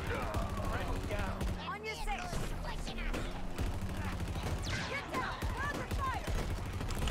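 In a Halo Infinite battle, minigun fire and other gunfire rattle on with barely a break. The shots are loud and dense, with voices and game effects layered through the shooting.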